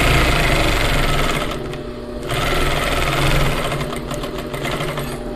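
A sewing machine stitches a flared skirt with a steady, loud mechanical whir, dipping briefly in the middle as it backstitches, then running on continuously.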